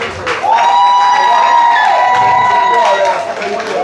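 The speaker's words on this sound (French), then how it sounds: "encore un grand applaudissement pour l'investigateur Edimiac" Loud crowd at a Guadeloupe music tribute: broad clapping and cheering with whoops and a sustained high whistle or shout running through, continuous for several seconds.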